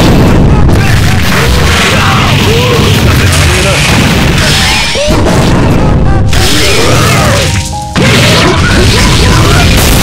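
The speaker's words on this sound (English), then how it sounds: "Is about to explode." Loud booming crashes and explosive impacts from a KOF Mugen fighting game match, dense and continuous across the clip with a brief dip near the end, with game voices over the effects.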